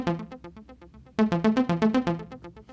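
OP-Z synthesizer arpeggiator sounding one long step as a bright, evenly pulsed run of plucky synth notes, quieter at first then louder from about halfway, with no talking.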